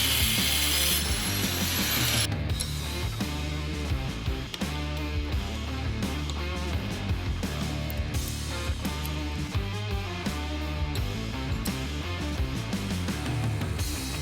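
A ratchet clicks in quick, steady runs while a drive pulley is taken off a neglected lawn mower, mechanical and close, with pauses between strokes.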